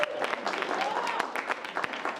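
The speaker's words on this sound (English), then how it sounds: "You can applaud." Applause from a live late-night award-show audience, a dense patter of many hands clapping with scattered louder claps, mixed with faint crowd voices and a brief tonal murmur.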